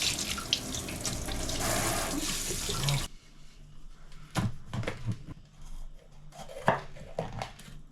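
A capsicum rinsed under a running kitchen tap: a loud rush of water for about three seconds, then quieter drips, splashes and handling knocks in the sink.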